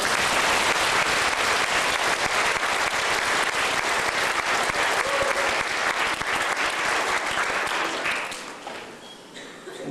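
An audience at a live event gives a loud, dense round of applause that holds for several seconds, then fades toward the end.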